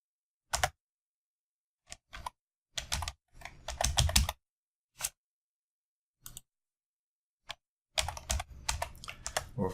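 Bursts of keyboard typing with clicky keystrokes, separated by short silent pauses, close and fairly quiet.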